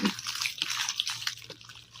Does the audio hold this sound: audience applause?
no